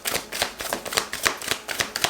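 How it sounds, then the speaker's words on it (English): Tarot cards shuffled and pulled from a deck, a steady run of crisp riffling bursts about every quarter second, close and fairly quiet, with no voices. "I want to pull out a few more cards"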